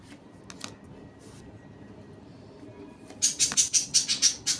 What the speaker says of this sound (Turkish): O kuş da canlandı.